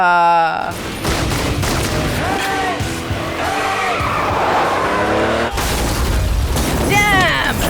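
Gunfire and action effects from the Bollywood action film Bang Bang, with bursts of shots, screeching tires and engine noise blending into a loud, busy action soundtrack, with people reacting and talking throughout.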